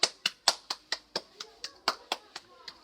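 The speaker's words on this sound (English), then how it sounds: "So shall we give all of those children a round of applause?" Clapping at a school celebration gathering for the children: about a dozen sharp, evenly spaced claps in a steady rhythm, fairly close and clear, as if from one or a few people.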